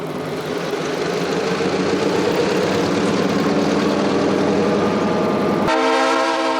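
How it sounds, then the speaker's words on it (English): An F7 diesel locomotive hauling a caboose and a boxcar rumbles loudly and steadily nearby, its engine drone holding without a break before a sharp horn blast cuts in near the end. "The 2200 F7 comes out of the shop. Notice he has a caboose and a boxcar."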